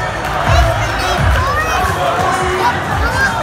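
A women's boxing crowd cheers and claps after a bout, a loud mix of shouting voices and hubbub with low thumps underneath, sustained throughout.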